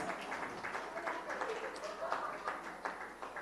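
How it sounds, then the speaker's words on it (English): Audience at a women's awards ceremony clapping for the winners, a fairly faint, steady crowd applause with scattered distinct claps, voices faintly mixed in. "A huge round of applause for the winners."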